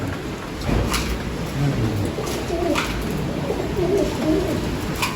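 Pigeons coo in a loft aviary, with several low, soft, repeated coos from nearby birds over a faint background hiss.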